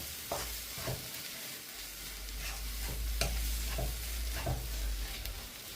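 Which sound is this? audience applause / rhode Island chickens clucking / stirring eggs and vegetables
stirring eggs and vegetables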